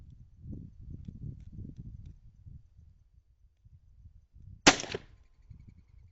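A single sharp rifle shot, fired through an Oneleaf NV400 Commander night vision scope, cracks loud and close near the end. Quiet murmuring and low rumbling come before it.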